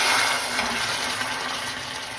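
A steady stream of water pours and splashes into a pan continuously for a couple of seconds, close and fairly loud.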